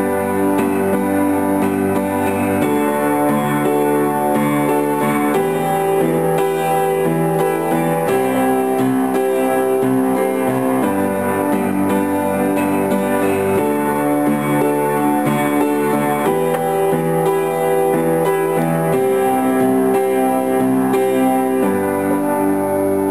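Piano plays the chorus: steady chords and melody moving through a repeating progression at even, moderate loudness, alone with no talking.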